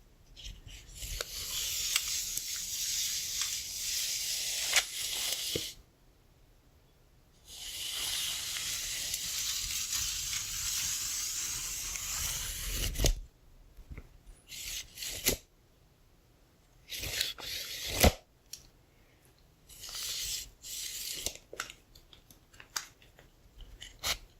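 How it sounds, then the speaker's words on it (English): A metal tape measure with engraved initials is handled close up in a quiet setting: long stretches of steady rasping and sliding as the blade is drawn out, then shorter scrapes, clicks and snaps with brief pauses between. "let's just start with this tape measure for some nice"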